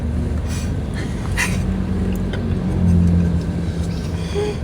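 Cars in heavy road traffic make a steady low rumble of engines, with a vehicle passing close by partway through, and no talk over it.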